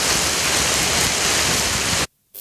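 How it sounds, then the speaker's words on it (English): Steady rain pours down in a dense, even hiss, loud and continuous, then cuts off abruptly into near silence before resuming briefly. "While the rain may not immediately change the heat, it is a welcome relief to many."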